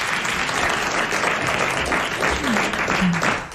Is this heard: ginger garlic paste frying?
no